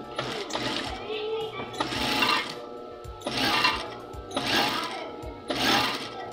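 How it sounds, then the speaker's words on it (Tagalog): A sewing machine stitching over a garment facing runs in five loud bursts of rapid whirring, separated by brief pauses, close to the microphone. "dito tayo tatahi sa ibabaw"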